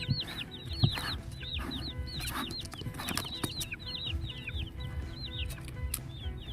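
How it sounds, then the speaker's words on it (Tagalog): Chickens being raised for meat cluck steadily on a farm with repeated chirpy calls from several birds, set against a low rumbling background, with a few louder knocks scattered throughout. "ito na yung painumin ng ating mga alagang manok"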